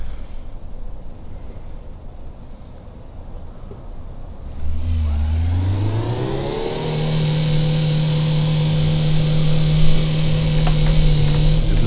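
A drift car in City Car Driving idles with a low engine drone. Then the engine revs up sharply and holds a loud, steady, rising whine, close and alone.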